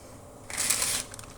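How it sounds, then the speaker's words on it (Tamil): Mustard seeds, urad dal and dried chilies hit hot oil for tempering a black chickpea rasam, giving one brief, bright burst of sizzling crackle up close before it fades. "கடுகு நல்லா பொரிஞ்சிடும்."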